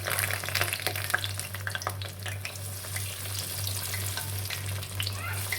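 Black-eyed pea vadas fry in hot oil, giving a dense, steady crackling sizzle with scattered pops over a constant low electrical hum. Close and continuous, with no talk.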